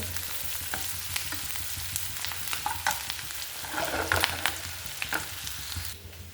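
Ginger, garlic, green chili and curry leaves sauté in hot oil with a steady close sizzle, broken by spoon scrapes and brief crackles and pops, loudest midway, with no voices.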